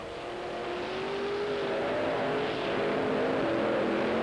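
Monster truck engines roar and rise in pitch as they rev under load in a race, a loud sustained drone that builds over the whole stretch.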